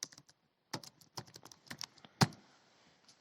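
Fingers type on a computer keyboard in quick, uneven bursts of crisp key clicks, close and fairly quiet, with one louder clack near the middle and brief pauses between groups of strokes.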